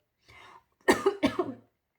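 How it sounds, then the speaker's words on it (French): After a soft breathy throat sound, a person coughs twice in quick succession, close and fairly loud, then silence. "ça tousse quand je dis ça"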